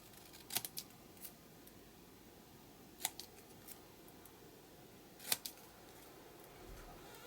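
Scissors make quiet, close snips while trimming paper for a steampunk notebook, with three clear cuts spaced a couple of seconds apart, each followed by faint small clicks, over a low room hush.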